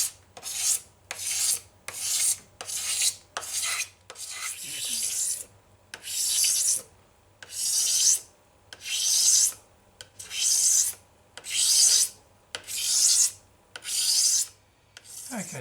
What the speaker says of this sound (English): a cabinet scraper does a pretty good job of taking that lip off, giving you a nice flat straight edge